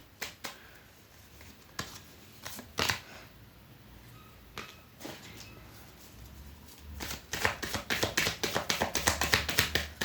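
Tarot cards being shuffled and drawn by hand at close range, with soft scattered taps and flicks early on, then a quick run of riffling card snaps toward the end, no voice.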